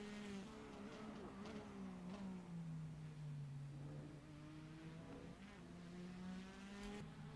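Porsche RSR race car engine in a racing sim crossing the finish line, a steady droning tone that dips and rises with gear and throttle changes, fairly quiet and continuous.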